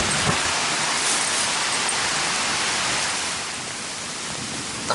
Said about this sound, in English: Sweet sound of the rain.